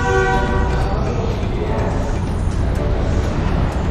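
A train at the old British-era Ipoh railway station in Malaysia rumbles loudly and steadily throughout, with a brief tonal horn-like sound at the very start.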